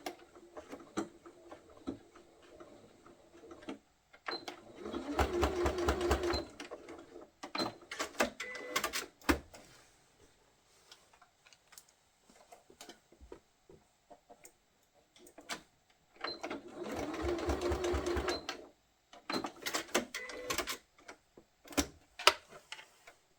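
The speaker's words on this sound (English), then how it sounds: "Now I'm going to take it over the sewing machine and tack the handle quite close to the edge" A sewing machine stitches in two bursts of rapid, rhythmic mechanical clatter while tacking a fabric handle near the edge of a sweetie cone party favour, with sparse ticks and handling clicks between the runs.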